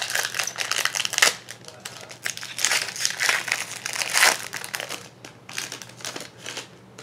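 A Yu-Gi-Oh booster pack from a Legacy of the Valiant deluxe edition being torn open, loud crinkling foil wrapper and ripping in quick irregular bursts, close up.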